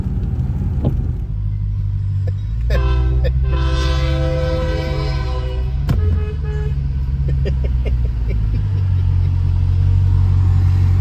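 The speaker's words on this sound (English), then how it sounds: "Look, it's a train." A train rumbles past close by, its horn sounding in several loud toots over the steady low roar of the wheels.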